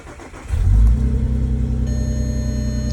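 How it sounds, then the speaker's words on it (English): An Audi TT VR6 engine starts up with a brief deep rev, then settles into a throaty, rumbling idle heard up close. "Best thing about this car is definitely just the sound of that VR6."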